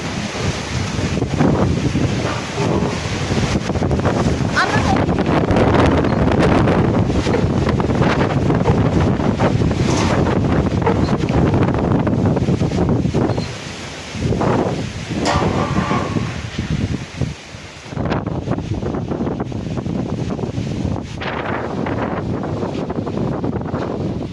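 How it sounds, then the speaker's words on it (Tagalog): Strong wind roars steadily into the microphone, a dense rushing blast with brief lulls, mixed with what sounds like surf or rushing water. "Malakas ang hangin."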